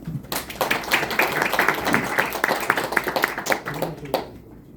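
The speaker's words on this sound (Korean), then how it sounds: "큰 박수 부탁드립니다." An audience claps for a presenter at a SolidWorks AI simulation roadshow seminar, a few seconds of close, busy applause that swells and then fades out.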